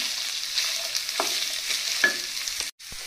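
Mixed vegetables and boiled green peas being stir-fried for vegetable pulao, a close crackling sizzle with a few spatula scrapes and a brief pause near the end, no voices.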